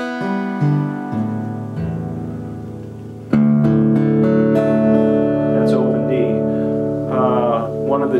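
An acoustic guitar in standard tuning rings out strummed chords that sustain and change several times, with a louder, fuller strum about midway that carries to the end.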